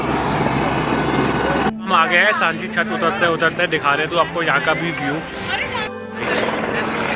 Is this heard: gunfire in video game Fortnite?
no